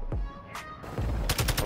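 Enemy gunfire in DMZ, a Call of Duty mode, with a few separate sharp shots followed by a quick burst of several rounds, moderately close and heard alone.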